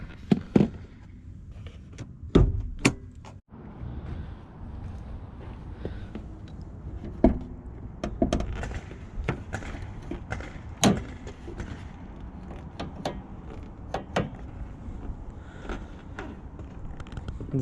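The hood latch of a Honda Pilot is released by hand, giving a couple of dull metallic clunks among scattered small clicks and handling noises nearby, with no talking.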